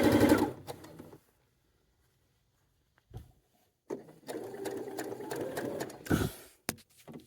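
A sewing machine runs a side seam on a pinafore dress, loud and close: a short burst of stitching, a pause of near silence, then a longer steady whirring run that ends in a final brief burst.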